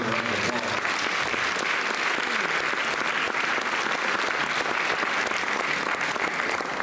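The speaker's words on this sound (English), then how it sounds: "Give yourself a round of applause" A large live-event audience applauds in a dense, steady roar of clapping that holds at full strength from start to finish, with a faint voice just under it at the very beginning.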